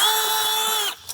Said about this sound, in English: I'm gonna use my drill brush,